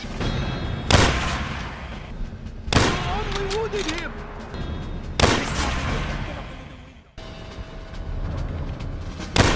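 Rifle gunshots in the Call of Duty level Vendetta: four sharp, loud cracks spaced a couple of seconds apart, each with a rolling echo, amid game ambience and a speaking voice.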